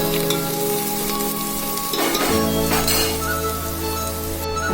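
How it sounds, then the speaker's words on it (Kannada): Cloves sizzle and fry in hot oil for chicken biryani, a constant crackling hiss running throughout with a brief clink of utensil stirring midway and no talking. "ಅದು ಗೋಲ್ಡನ್ ಬ್ರೌನ್ ಬರೋವರೆಗೂ ಚೆನ್ನಾಗಿ ಫ್ರೈ ಮಾಡಬೇಕು"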